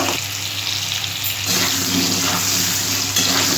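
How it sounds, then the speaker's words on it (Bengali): Potato pieces fry in hot vegetable oil in a pan, giving a steady, loud sizzling hiss with a few brief surges and no voices. "আলুটাও আমি সাদা তেলে ভেজে নিচ্ছি"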